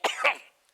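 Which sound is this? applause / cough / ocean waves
cough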